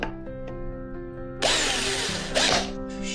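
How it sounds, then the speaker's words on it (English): A power drill bores holes into a plastic berley bucket, close and alone: a quieter stretch of running tones, then two loud bursts of drilling that cut through the plastic. "I'm just going to drill a heap of holes in this and stop when I think I've done enough."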